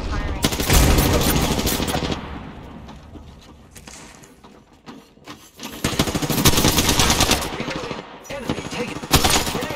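Rapid automatic gunfire and weapon bursts in an Apex Legends match, the Bangalore character's guns, loud and dense in two heavy stretches with a quieter gap between, mixed with game effects and some voice.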